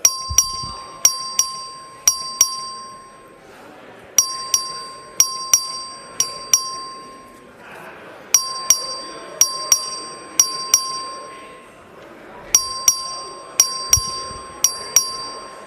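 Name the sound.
voting bell ringing in legislative chamber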